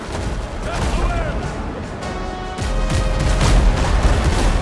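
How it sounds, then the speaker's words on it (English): Booming cannon or gun shots from the pirate-ship video game Windrose, a dense run of heavy blasts and crashes that grows louder in the second half, with a voice talking over the gunfire. "I'm just shooting at nothing now"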